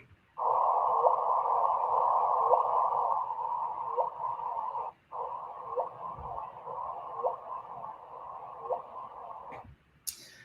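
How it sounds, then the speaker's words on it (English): Sonified LIGO gravitational-wave data from merging black holes: a steady buzzy tone with a faint repeating tick, broken by one brief gap and then resuming, loud and alone, ending in a short sharp click. "So this is the sound of black holes."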